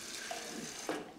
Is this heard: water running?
yes